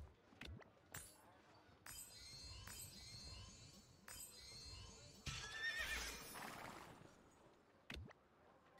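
Horses neigh and whinny in the Rise of Kingdoms strategy game, with several shrill calls over a busy layer of battle noise, hoof clatter and clinks, and a sharp burst near the middle.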